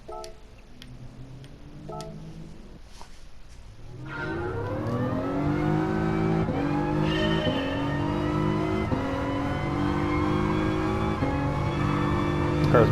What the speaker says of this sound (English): Let me drive the car with these comfort soft tires.